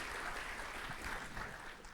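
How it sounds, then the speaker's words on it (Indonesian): A church congregation claps at a Sunday service, a dense, even patter of many hands heard from a little distance, with no talk over it. "Tepuk tangan yuk buat Tuhan kita Yesus Kristus."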